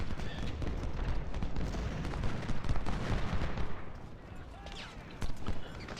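Battle sounds from Ultimate General: Civil War: scattered gunfire and artillery booms crackle in a dense, continuous din, with several louder bursts, and a voice murmuring faintly underneath.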